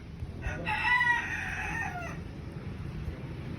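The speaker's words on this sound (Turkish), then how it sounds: "Horoşlar ötüyor." A rooster crows once, a drawn-out cock-a-doodle-doo lasting over a second, fairly close, over low background noise.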